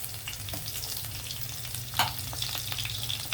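Garlic fries with urad and chana dal in hot oil in a pan for a beans and tomato fry, producing a steady close sizzle with a few sharp spoon scrapes, no voices present.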